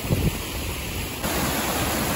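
Fast water rushes through a lock on the Nottingham Canal in a steady, broadband roar, close and unbroken, growing slightly louder partway through, with no voices.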